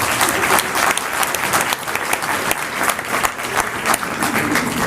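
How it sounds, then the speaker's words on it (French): Sustained applause from an audience at a French-language talk about leaving or staying, dense, steady clapping filling the room for about five seconds. "Vous pouvez l'applaudir, c'est un moment."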